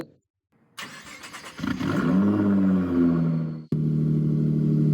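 A 2017 Nissan GT-R engine in the Roblox game Driving Empire cranks and starts, then idles and revs with a rising, falling whine, cuts out briefly, and resumes a steady loud hum.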